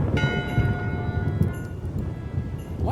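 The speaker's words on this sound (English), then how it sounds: "One bell. Voting hour." A single bell strikes in a Monkey Island game, a clear ringing tone near the start that slowly fades over a few seconds.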